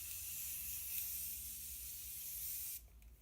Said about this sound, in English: So you get your setting spray, then you get your fan, then you do mist.